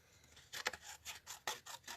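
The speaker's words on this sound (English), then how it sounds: "Just grab some scissors here and snip off the bottom" Scissors snip through paper scraps for a birthday card several times in quick succession, close by, with crisp cutting rasps and no talking.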